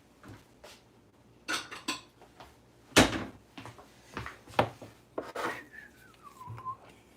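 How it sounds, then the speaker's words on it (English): Kitchen clatter as another bowl is fetched, with several sharp clinks of dishes and a cupboard or door knock, scattered bursts through a home kitchen while turkey kebabs and grilled salad are prepared; a brief whistle-like tone trails near the end. "I need to get another bowl"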